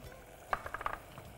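A spoon stirring chilli and coriander powder into soya and tomato in a pan, a short burst of quick scraping clicks lasting under half a second, soft and close, with faint sizzling around it.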